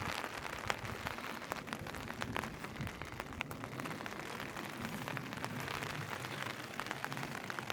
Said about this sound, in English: it is just now starting to rain. I hear the raindrops on there